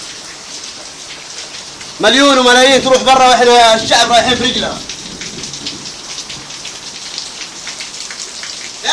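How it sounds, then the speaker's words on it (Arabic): Heavy rain pours steadily outside a house in Saudi Arabia, a dense hiss that continues throughout, while someone speaks loudly over it for a few seconds in the middle. "الحين مطر كأني في الشارع"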